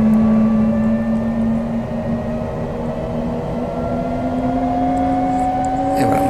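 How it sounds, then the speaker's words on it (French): Fouga Magister jet engine spooling up in Microsoft Flight Simulator, a loud steady whine and hum that slowly rises in pitch, continuous and close, with no talk over it. "Et voilà, le moteur est parti."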